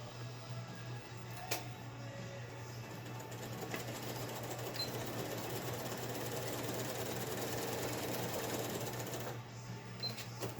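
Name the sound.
sewing machine stitching fabric mask pieces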